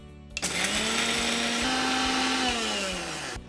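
A mixer grinder grinding dry-roasted masala spices without water, starting abruptly with a rattle, then a loud steady whirring motor hum that dips slightly in pitch before cutting off.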